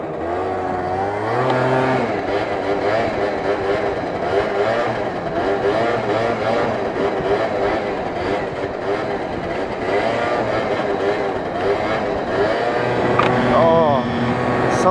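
A prebug Yamaha Zuma scooter's small engine revs loudly and steadily while riding a wheelie outdoors, its pitch rising and holding, with a person talking over it at times.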